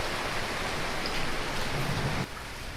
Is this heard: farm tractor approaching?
no